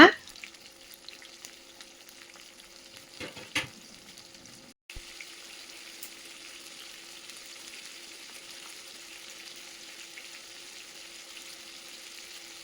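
Brinjal, tomato, green chillies and garlic cloves frying under a lid in a covered pan, a steady soft sizzle that continues throughout, with a brief clatter of handling early on.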